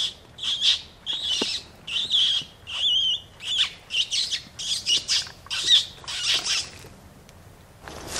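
Distressed, squealing predator call imitating an injured rabbit or rodent, used on a cold night owl prowl: a series of shrill, wavering squeals in short repeated bursts about every half second, fairly close and alone.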